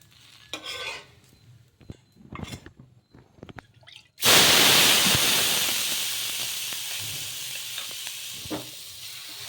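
Semiya beerakaya dosa batter hits a hot pan with a sudden loud sizzle that hisses on and slowly fades, following a few quiet clinks and stirring sounds; no one speaks.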